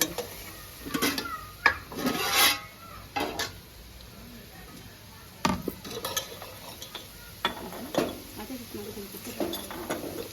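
Raw prawns being dropped into a pan and stirred while cooking a gongura prawn curry and fry, giving intermittent clatters and scrapes of a spoon against the pan over a faint sizzle and steady background hum.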